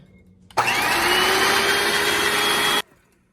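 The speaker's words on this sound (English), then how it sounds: "Now we are going to beat our egg whites until they are nice and stiff. Once again, just using my hand mixer with the little whisk attachment." A hand mixer with a small whisk attachment beats egg whites toward stiff peaks, a loud close steady motor whir that starts abruptly, holds for about two seconds and cuts off, with no talk over it.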